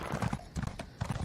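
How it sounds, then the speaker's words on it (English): Rapid hoofbeats of a galloping horse in the video game Elder Scrolls Online, quick clustered clip-clop strikes in repeating groups of three, close and crisp with no talk. "once you have a horse and you get this rapid maneuver, click it, the horse can go quite fast"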